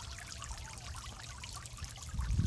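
Water trickles and pours softly in a garden, a faint continuous stream with a slightly louder, splashier burst near the end, no voices present.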